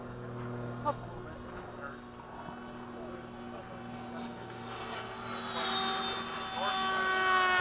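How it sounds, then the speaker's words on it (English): Freewing 80mm MiG-21 and FMS 80mm Hawk RC jets fly in formation at a flying field, their electric ducted-fan whine rising as they draw nearer, with brief voices nearby. "Oh, cool, they're together. Formation flight."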